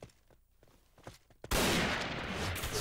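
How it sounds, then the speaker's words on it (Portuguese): Gunfire in the video game Point Blank during a desert camp deathmatch: a few faint scattered shots and footsteps, then a sudden loud, dense burst of rapid fire that continues to the end. "Olha o som dessa arma do carinha ali."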